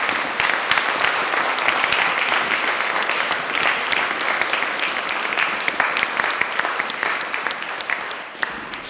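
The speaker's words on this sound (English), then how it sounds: "Please give a warm round of applause, Mr." An audience at the Wordlife 10th birthday party applauds a poet with loud, steady, close clapping and scattered cheers that continue at full strength for about nine seconds.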